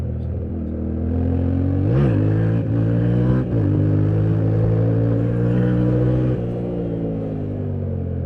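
A Yamaha Tenere 700 motorcycle engine revs loudly and steadily, climbing and falling in pitch with a couple of sharp throttle blips, a continuous close-up drone throughout.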